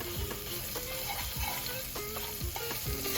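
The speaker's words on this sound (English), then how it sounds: "And we will saute them for just about half a minute. Saute till the smell of the garlic and the ginger disappears." Ginger and garlic sauté in ghee for rajma, a close, dense sizzle with a spoon stirring and scraping through it in quick repeated strokes, steady and without voices.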